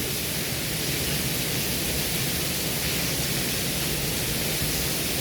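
Heavy rain pours outside during a thunderstorm as a dense, unbroken hiss that stays loud and steady throughout, with no voices over it.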